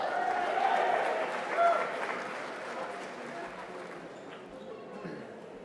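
Graduation commencement audience at a college ceremony applauding and cheering, a dense wash of clapping and crowd noise from a large hall that gradually eases off over several seconds.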